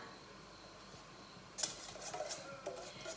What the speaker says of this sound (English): I'm just gonna keep stirring that